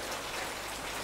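Steady rain falls in an even, continuous hiss of drops hitting surfaces, heard alone without any voices.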